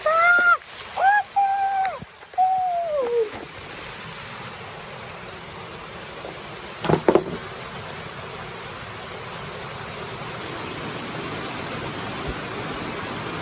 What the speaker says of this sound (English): It's pouring in the garden.